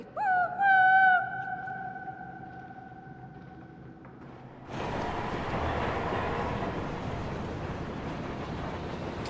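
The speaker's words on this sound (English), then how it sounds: "Now, technically, you don't need to do /train when you get on the Deep Run tram" The Deep Run tram in World of Warcraft gives a few loud tonal chime-like notes, then a steady rumbling, hissing rush of the moving tram that continues evenly to the end.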